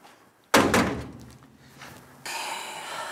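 A door at home opens with a loud sudden thunk, followed by a brief quieter rattle, then the steady hiss of outdoor noise coming through the open doorway.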